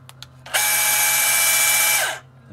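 Bosch GBH 18V-26 Professional cordless rotary hammer drilling in one loud, steady burst of about a second and a half, with brief ticks before it starts and a quick wind-down at the end, close to the mic.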